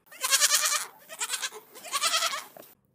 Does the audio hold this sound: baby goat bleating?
yes